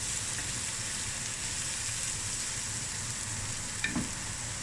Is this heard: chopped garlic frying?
yes